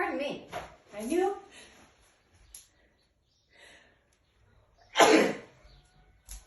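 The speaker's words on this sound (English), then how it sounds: "I knew if I went outside with dust, I'd come back in and sneeze" A person sneezes once, a sudden loud burst after a stretch of talk and near silence, followed by a faint breath.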